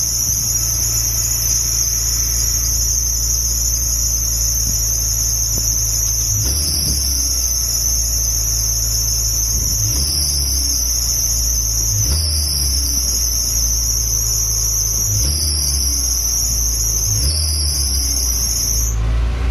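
An idling Suzuki engine with oil on its drive belt lets out a loud, continuous high-pitched belt squeal that dips slightly in pitch now and then, over a steady low engine rumble. It is close-up and has no talk.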